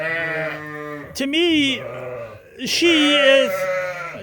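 Sheep bleat loudly and close by, with long wavering cries that rise and fall, one after another, among a flock of ewes and lambs; a person talks at times.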